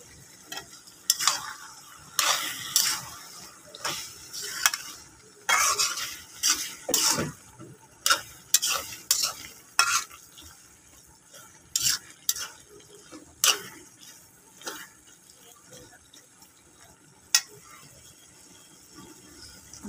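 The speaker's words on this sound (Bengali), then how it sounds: "আর একটু নাড়াচাড়া করে নামিয়ে ফেলবো।" Dried fish and mixed vegetable curry being stirred in a pan, with repeated scraping and clanking strokes of a spoon against metal in an uneven rhythm over a soft background sizzle.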